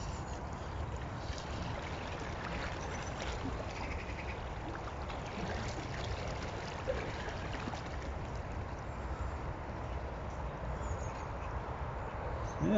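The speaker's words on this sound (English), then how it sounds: "Let's take a look at the river." A river runs high during Storm Henk in northeast England, a steady, broad rushing of water heard throughout with no break, moderately loud and close, with no one talking.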